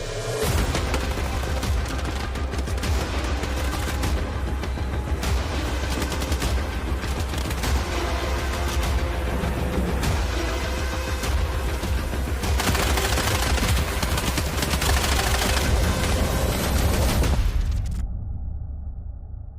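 Sustained gunfire from a video game trailer, dense automatic bursts and booming shots layered over a loud, continuous mix that cuts off abruptly near the end.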